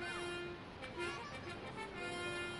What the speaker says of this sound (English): what's with the foghorn?